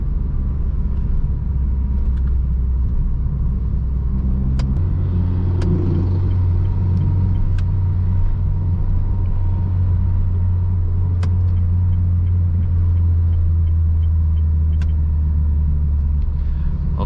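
A car cruises in third gear at around 60–70 km/h on a busy road, with a steady low engine drone and road rumble throughout and a brief rise in engine note partway through.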